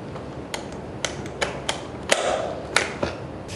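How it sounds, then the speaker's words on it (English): Latches on a plastic projector case for a Starlab portable planetarium are snapped shut, giving several sharp, close clicks spaced irregularly over a low background hum. "Make sure that the latches are securely fastened and laid flat."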